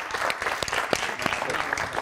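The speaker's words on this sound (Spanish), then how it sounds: "¡Un aplauso!" A studio audience of school visitors from Elche claps on a university TV show, giving brisk, dense applause that fills the whole moment, with some voices mixed in.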